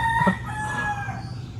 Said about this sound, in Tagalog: Naririnig nyo ba? Nakailang tilaok na siya